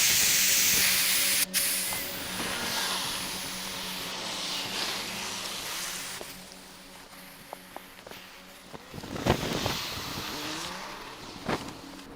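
Air hisses steadily out of the open valve of an inflatable stand-up paddle board as it deflates, a loud continuous rush close by that eases slightly over time, with a few soft handling knocks near the end.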